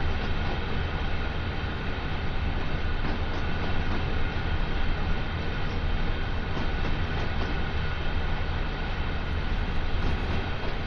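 A long freight train in Train Sim World 2 climbing Sand Patch Grade rumbles steadily, a dense, constant roar of engine and rolling wagons that stays even and loud throughout with no break.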